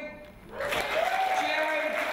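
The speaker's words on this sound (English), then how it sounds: "Just give us some clapping." An audience at a stand-up comedy warm-up breaks into clapping after a quiet start, the dense applause swelling quickly and holding steady, with a voice briefly audible over it.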